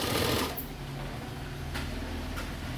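A sewing machine stitches a simple V-neck frock nighty, running in a steady, close mechanical whir with a faint ticking rhythm and a few light clicks.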